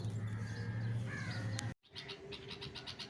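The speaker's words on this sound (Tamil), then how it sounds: "அப்போ பார்த்தா குருவி கத்துற சவுண்ட் கேட்டுச்சு" Small birds calling at a family home, with chirps and caws over a steady low hum, then a brief cut before a run of repeated, closer chirping calls.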